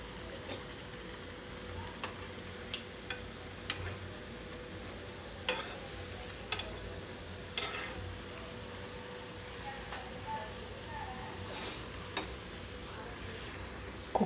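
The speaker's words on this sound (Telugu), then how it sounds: "ఇవి పెసరపప్పు గారెలు కదా, తొందరగా కూడా వేగిపోతాయండి." Moong dal vadas (pesara garelu) fry in oil on a medium flame, giving a steady, even sizzle punctuated by small regular ticks and clicks of stirring.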